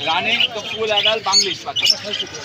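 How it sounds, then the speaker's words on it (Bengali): Budgerigars chirp and squawk in cages at the Meradia bird market, their short, bright calls mixed in with nearby people talking. "এইদিকে একটা জোড়া চমৎকার বাজিগার আছে"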